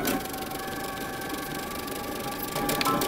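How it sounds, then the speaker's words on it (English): A home sewing machine runs steadily, stitching a seam on wide-leg pants and back stitching, with a continuous close mechanical hum that picks up slightly near the end. "we're going to stitch from the very top until about an inch or so past our notch. We're going to back stitch and stop."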